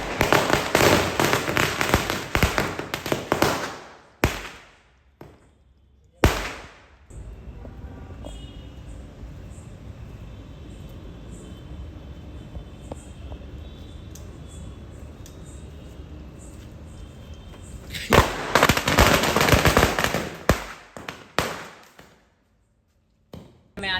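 Diwali firecrackers go off in sharp, loud bursts at close range: a dense crackling barrage at the start, a couple of single bangs, a long quieter stretch of hiss and rumble, then another rapid volley before silence.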